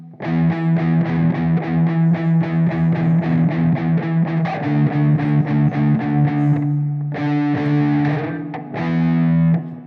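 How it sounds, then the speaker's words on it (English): Black Sabbath's Paranoid riff on a distorted electric guitar, a Harley Benton SC400, played slowly as a steady run of chugging strums, then a few sustained ringing chords near the end, loud and alone. "Now the guitar that I'm using is a Harley Benton SC400"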